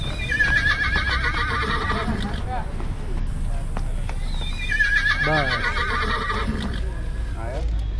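A horse whinnies loudly twice, high shrill neighs rising over hoof clops and someone talking nearby.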